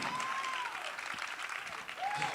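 Church congregation clapping together in a hall, a dense steady patter of applause at moderate distance, with a preacher's voice and scattered calls rising above it.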